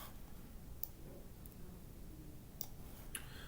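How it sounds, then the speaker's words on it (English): A computer mouse gives a few faint, sharp clicks spaced apart over a quiet background, close and isolated. "And then you need to click on Page Location."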